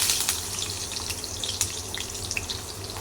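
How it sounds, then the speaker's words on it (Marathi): Chopped onion frying in a pan with tempered mustard seeds, cumin and curry leaves for a brinjal vegetable dish, a steady close hiss and sizzle with scattered crackles and pops. "कांदा त्याला भाजून घेऊया"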